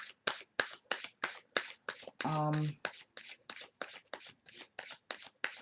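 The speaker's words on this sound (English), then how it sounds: "We're going to put the rest of the 9 cards down." Tarot cards are laid down one after another in a quick, regular series of crisp slaps and flicks, with a brief buzzing hum in the middle.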